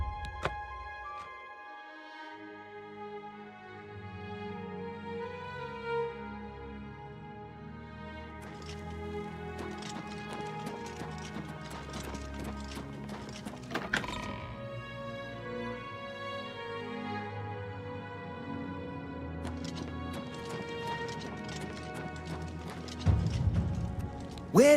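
Horse hooves clip-clopping in Oblivion Remastered, steady rhythmic footfalls under layered game music, fairly faint, with a thud near the end.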